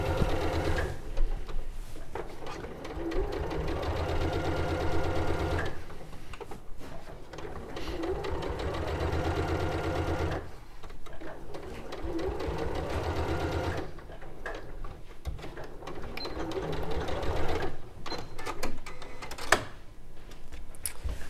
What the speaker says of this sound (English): just sew around the outside using all three, going through all 3 layers